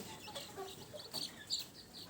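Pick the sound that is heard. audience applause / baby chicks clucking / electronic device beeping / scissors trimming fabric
baby chicks clucking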